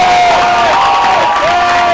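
An audience at a Hindi comic poetry gathering (hasya kavi sammelan) bursts into loud, continuous cheering, whooping and clapping for a couple of seconds, filling the hall.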